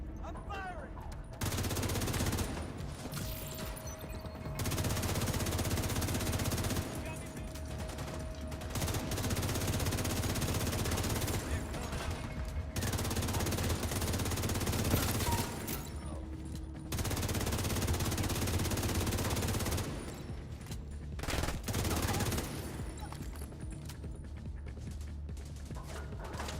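Video game gunfire crackles in long sustained bursts with short pauses between volleys. Mechanical clatter mixes in, and speech runs beneath it throughout.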